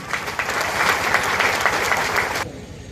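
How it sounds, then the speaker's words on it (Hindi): Applause for Nitish Kumar at a sanitation workers' meeting: a dense burst of clapping from a crowd, loud and steady for a couple of seconds before cutting off abruptly, with no talk over it. "एक बेर नीतीश कुमार जी के नाम पर ताली बाजे के चाहिए"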